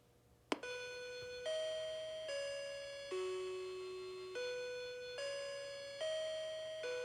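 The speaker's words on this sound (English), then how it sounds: "go ahead and test it by pressing the doorbell button" An STS-408 alarm system's wireless doorbell chime rings out after a sharp button click, playing a slow melodic sequence of about seven sustained bell-like tones, each fading before the next, clear and alone.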